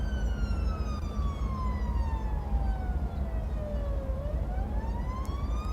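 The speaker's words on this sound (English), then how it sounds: "I'm trying to look for a siren." Emergency siren in the Cities Skylines city-builder game, a continuous wailing tone that sweeps down slowly then rises again, with a hollow echo and steady city ambience underneath throughout.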